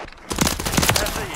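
Rapid automatic gunfire in a Call of Duty: Modern Warfare 3 capture-the-flag match on the Highrise map, close bursts crackling steadily over busy game noise with radio chatter voices mixed in.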